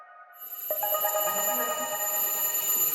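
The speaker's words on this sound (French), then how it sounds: "Peu après 8 heures, la sonnerie du tribunal retentit." A bell rings in a courthouse, a sustained bright electric tone that starts abruptly and keeps going, moderately loud in a quiet room.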